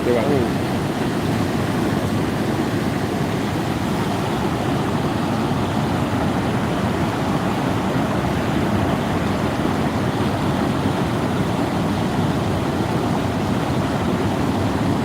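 A river in flood after heavy rain at Sirsav, the Chandani river, its water rushing in a loud, steady broadband roar that never lets up.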